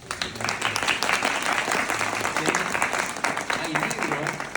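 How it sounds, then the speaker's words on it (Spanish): Steady audience applause at the close of an open talk in a memorial park, a dense wash of many hands clapping continuously, with faint voices murmuring underneath. "Un aplauso."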